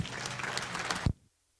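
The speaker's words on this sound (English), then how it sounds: "they all deserve a round of applause" Crowd applause at a 4-H beef and sheep show in Olds, Alberta, honouring senior show members: dense clapping that ends abruptly, followed by near silence.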